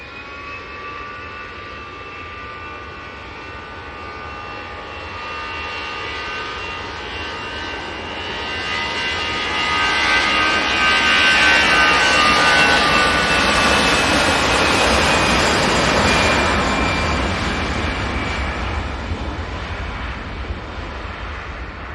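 An EasyJet jet airliner departs Manchester Airport in the early morning; its engine roar swells from a distant rumble to a loud, broad whine at its peak, then slowly fades while wind buffets the microphone.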